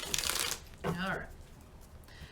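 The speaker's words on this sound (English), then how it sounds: "One more shuffle." A short crisp riffle of tarot cards being shuffled, followed by a softer flutter as the deck settles, close and clear with quiet room tone.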